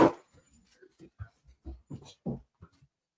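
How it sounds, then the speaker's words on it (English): A dog whimpers and yips in short, scattered bursts close by, with a person talking softly between the sounds. "She's just a rambunctious dog."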